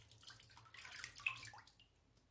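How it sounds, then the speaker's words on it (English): Water is splashed and patted onto a face before shaving, a brief burst of soft wet splashing and dripping close by, quiet and fading out after about two seconds. "I'm just gonna add some more water there to hydrate the face a bit."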